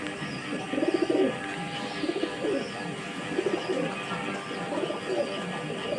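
Pigeons, including Damascene, Budapest and racer breeds, coo repeatedly in soft, low, throaty bursts, several birds overlapping close by against a steady background hum.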